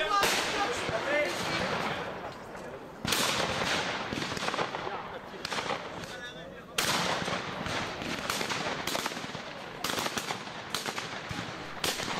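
Repeated shotgun blasts at a clay target shooting event at the Chambord Game Fair, sharp reports at irregular intervals, some near and some more distant, under a narrator's voice.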